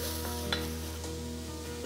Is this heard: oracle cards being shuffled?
no